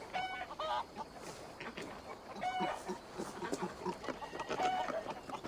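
Chickens in Assassin's Creed Valhalla, repeated clucks and short squawks scattered across the stretch, moderately close over a quiet in-game background.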